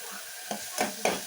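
Spices with turmeric frying for tomato sambar sizzle softly in a pan while a utensil scrapes through them in a few quick, separate strokes.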